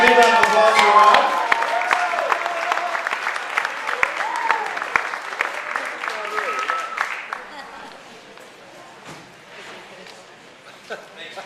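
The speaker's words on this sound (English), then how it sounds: "Please, a big round of applause for Rob." Wedding guests break into applause for the best man, a dense burst of clapping with some cheers that is loud at first and gradually thins out and fades.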